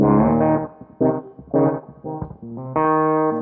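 Sustained electric guitar chords with a swirling, warbling rotary speaker effect, played in several separate strummed bursts, loud and close with no voices.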